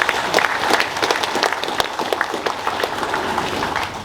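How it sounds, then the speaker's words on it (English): An audience claps at a government launch event for a Papua New Guinea development plan, dense steady applause from a crowd filling the whole stretch at a moderate distance. "Let's clap our hands"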